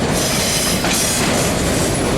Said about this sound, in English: So you can see the end of the train coming there.